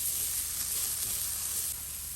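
Shredded cabbage frying in a pan with chili flakes and pepper powder for fried rice, a soft, even, continuous sizzle heard alone at moderate distance.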